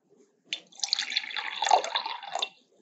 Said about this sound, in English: you're going to add a little bit of water on your jar